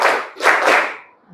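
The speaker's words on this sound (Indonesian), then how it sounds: "Ulangin, tepuk 4." Schoolchildren in a class clap in unison to a counted beat, producing a quick series of about three or four loud, slightly smeared group claps close by, with no talking.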